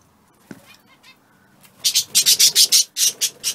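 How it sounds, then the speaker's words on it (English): Small nesting birds sitting on eggs give a rapid run of sharp, high alarm calls close by, bursting out in a steady rhythmic series after a quiet start with a faint thump. "They're telling me off because they're nesting."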